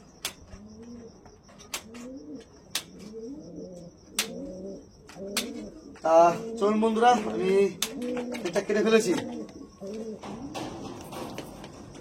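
Andhra pigeons coo repeatedly in low rhythmic phrases under someone speaking, with sharp clicks and flapping or scuffling noises, the cooing growing denser and louder in the second half.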